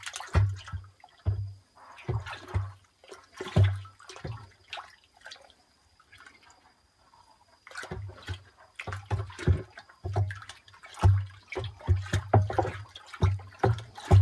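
Manure, molasses, milk and water are stirred together in a container to make a biofertilizer. The liquid sloshes and splashes in bursts of irregular strokes, with a quieter pause partway through.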